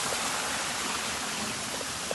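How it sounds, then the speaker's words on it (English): A small waterfall in a botanical garden in Naples, Florida gives a steady, soft splashing wash of water, even and moderately close, with no talking. "I have the baby waterfall."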